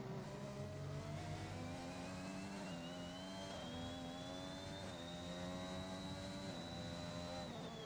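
A Red Bull Formula 1 car in a racing game, flying around Imola: a loud, continuous high-revving engine whine that climbs and drops through gear changes across the whole lap, with no voices over it.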